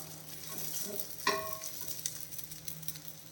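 Multigrain navadhanya dosa sizzling softly on a hot pan as it is folded, with a steady quiet fry and a brief sharp scrape of the spatula near the middle.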